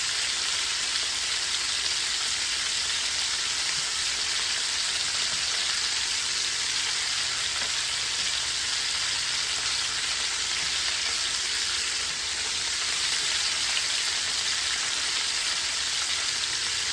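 Jerk chicken frying in a pan, a steady, close, hissing sizzle that continues unbroken with no voices.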